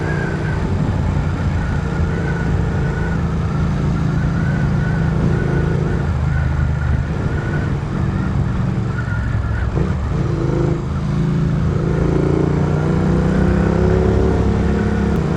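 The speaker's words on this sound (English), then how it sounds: "I do love how this bike sounds." A motorcycle cruises along an open road, its engine a steady, unbroken drone mixed with rushing wind noise, loud and close throughout.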